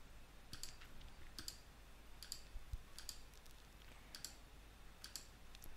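A computer mouse clicks a button in process-design software about seven times at a steady, even pace. The clicks are crisp and close in an otherwise quiet room.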